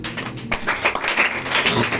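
Applause from a church congregation during a service, a dense, continuous clatter of many hands clapping at close range for about two seconds, with faint voices mixed in.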